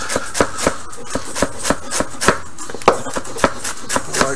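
Knife chopping rolled-up ingredients on a board for chicken curry, a steady run of close, sharp thuds about three per second with no talk.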